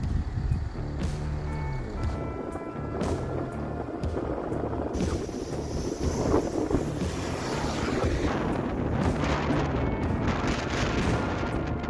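Strong wind buffets a stationary car and its microphone in steady, rumbling gusts, heard from inside the cabin of a four-wheel-drive vehicle in a sandy, exposed spot.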